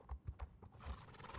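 Horse hooves clip-clopping in the video game Star Stable Online during a dressage lesson, a quick run of rhythmic thuds close by, followed by a short neigh.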